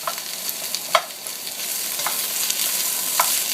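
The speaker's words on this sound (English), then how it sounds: "So just mixing that all together pretty good. Kind of breaking up the onion chunks." Celery and onion chunks stirred in a hot pot for rabbit stew: loud, close sizzling with three distinct spoon scrapes spaced about a second apart.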